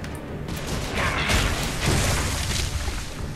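Dense, loud gunfire and impact noise in the shooter Gears of War 3, a steady roar of overlapping shots with a swelling blast around the middle.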